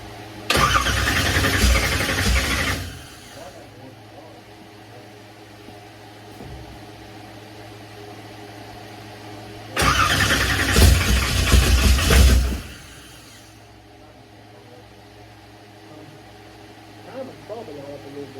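A 1967 car's engine cranks in two loud bursts of roughly three seconds each with a quiet stretch between, the engine seemingly not catching, leaving a low background hum afterward.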